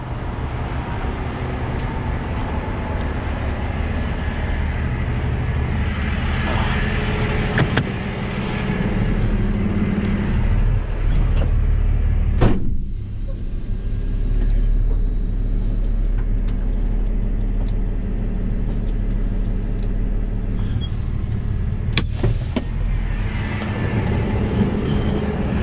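Steady low engine rumble from a car pulling forward while recovering a Toyota that rolled over off a highway, continuous and fairly close, with a brief sharp knock partway through and no talk.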